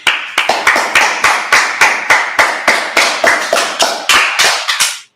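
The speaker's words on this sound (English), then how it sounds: "All right, let's clap it up." Crowd of listeners clapping in unison at a gathering, a loud, steady rhythmic series of about twenty sharp group claps at an even pace, ending abruptly.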